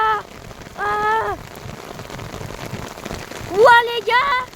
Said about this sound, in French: Même le parapluie, il est en train de s'écrouler tellement qu'il pleut.